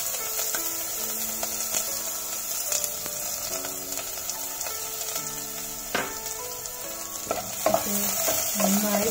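Chopped onion frying with bay leaf in a pan for vegetable fried rice: a steady close sizzle with occasional stirring scrapes, with no voices.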